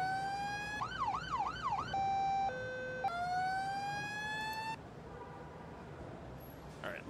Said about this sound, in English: Let's see if the siren's all right.